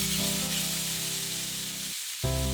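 A square steak sizzles loudly in a dry pan with no oil, a dense, steady crackling hiss that cuts out briefly near the end before resuming, with a low hum underneath.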